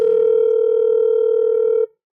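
Phone ringing in a touring musicians' setting, heard as a loud, steady electronic tone with harmonics that holds for nearly two seconds and then cuts off abruptly.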